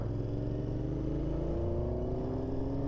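Royal Enfield Interceptor motorcycle engine drones loud and steady at close range, a continuous throaty rumble with rising and shifting tones as it revs along, no voices over it.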